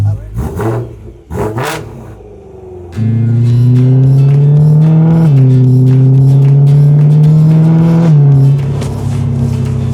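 A convertible car drives with its roof down, its engine droning loud and steady as it accelerates after a few seconds of rustling and wind at the start.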